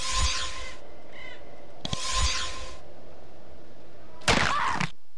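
Explosions in the computer role-playing game Geneforge 2 come as three separate harsh, crackling bursts, each under a second, with quiet gaps between them and no voices.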